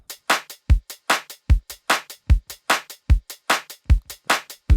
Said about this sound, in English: It goes kick, snare, kick, snare, kick, snare